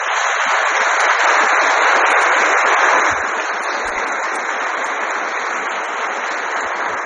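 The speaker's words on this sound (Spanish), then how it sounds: "Le damos un fuerte aplauso." Loud, sustained applause from a congregation at a church blessing of a new painting of saints, dense clapping throughout that eases slightly partway through.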